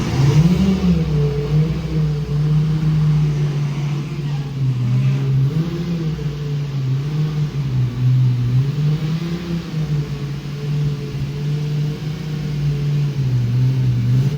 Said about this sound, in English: this car went from idle to